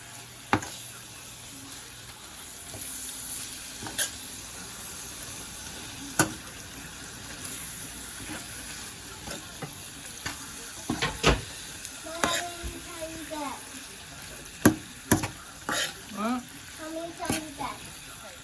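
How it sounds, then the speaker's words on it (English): Taco meat fries in a pan with a seasoning packet stirred through it, a continuous soft sizzle broken by scattered scraping and clacking strokes from the stirring utensil, close by, with a voice talking over it at times. "we're going to add this packet, and then we're going to roll it around"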